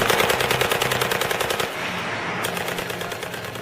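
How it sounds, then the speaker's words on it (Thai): Sustained AK-47 rifle fire, loud and close, rapid bursts of shots in a fast steady rhythm with a short lull before firing resumes. "เสียงปืนในอุ้งมือของสามารถมีพันคำรามลั่น"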